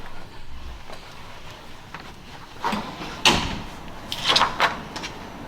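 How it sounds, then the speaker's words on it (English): An apartment door closes during a viewing, with faint shuffling followed by a sharp thud and a couple of quick latching knocks near the end, fairly close. "Close that door."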